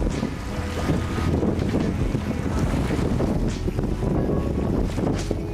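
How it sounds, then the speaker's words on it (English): A sailboat moves through strong wind off Mallorca, with steady heavy wind rumble buffeting the microphone and water rushing along the hull. "Look at the sail is up, just going with the flow, with the wind"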